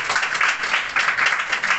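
A meeting audience applauds to welcome the chairman, a brief burst of many hands clapping in uneven pulses, moderately loud and close.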